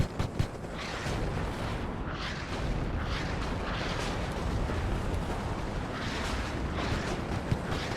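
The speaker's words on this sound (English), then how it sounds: "Gotta love the shake from the artillery." Heavy, continuous rumbling barrage of artillery booms and blasts in the video game WARNO, loud and dense throughout with no pauses or voices.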